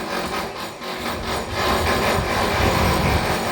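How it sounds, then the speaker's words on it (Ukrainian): Workers chasing a groove into a hole in metal to prepare it for welding, a steady harsh grinding and rasping scrape that grows louder and denser partway through, close and continuous with no talk. "Вони штроблять отвір, щоб можна було тут скріпити"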